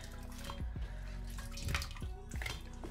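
Water splashes and drips as dyed yarn is squeezed in a gloved hand, a few wet squelching pulses over a steady background of running water.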